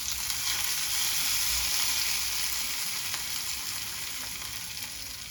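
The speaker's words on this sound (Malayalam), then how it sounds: "ഇനി ഇത് കറിയുടെ മുകളിലേക്ക് ഒഴിച്ചു കൊടുക്കാം." Hot tempering poured over an okra tamarind curry sets off a loud, steady sizzle that fills the whole stretch. It crackles close by, with no voices, and fades slightly toward the end.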